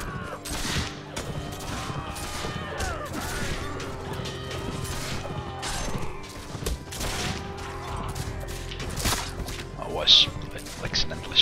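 Battle in the video game Mount & Blade With Fire & Sword: scattered musket shots, thuds and clashing melee noise crowd a dense, continuous din, with someone talking over it.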